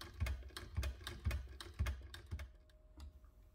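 Backspace key on a 1931 Urania 7 typewriter, struck in a series of five or six sharp mechanical clacks at an even pace, close and fairly quiet, then a couple of lighter taps as the carriage settles.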